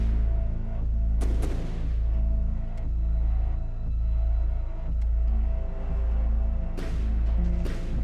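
Repeated heavy weapon impacts in the Space Engineers space combat game, hyper velocity rounds striking a tanky ship: several loud booming hits with sharp cracks spaced a second or two apart over a steady low rumble, no voices.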